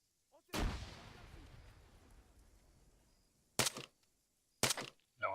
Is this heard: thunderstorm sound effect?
no